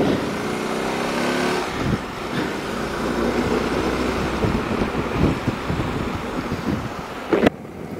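Motorcycle ride on an open road, with a steady engine drone mixed with strong wind rush across the microphone and a brief sharp bump near the end.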